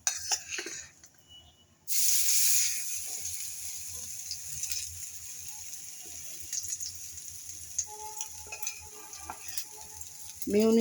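Egg toast fries in oil in a pan, a loud bright sizzle flaring up at once and then settling into a steady crackle, with a few soft utensil clinks and no talking.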